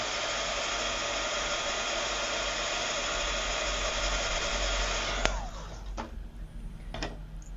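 A hair dryer or heat tool blows steadily to dry ink on paper for a papercraft stamping project, a loud continuous whoosh that cuts off near the end, followed by a few faint clicks and handling sounds.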